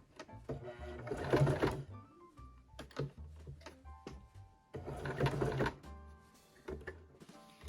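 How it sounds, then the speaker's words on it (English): A sewing machine runs in two bursts of steady stitching around a Christmas snow hoop ornament, close and moderately loud, with quiet pauses and small handling sounds between the runs. "So I'm just going to sew all the way around the inside here."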